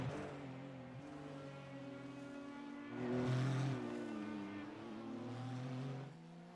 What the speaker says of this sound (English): And right there behind him, that's the only other car that you hear out on track is Jeremy Jukic.